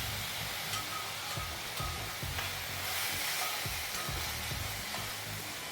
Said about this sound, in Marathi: आता हे मस्त परतून घ्यायचंय आपल्याला